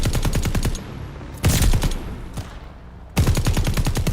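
Bren light machine gun firing in Call of Duty Vanguard: loud, close bursts of rapid shots with a short pause between them and single heavier reports in the gap, then another full burst.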